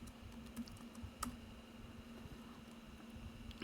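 Soft computer keyboard typing, a few light scattered keystrokes, faint and close over a steady hum.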